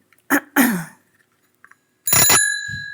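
A bicycle bell, rung live as an improvised sound effect in a musical performance, gives a bright ring that fades out. Two short percussive knocks come before it and a soft low thump follows.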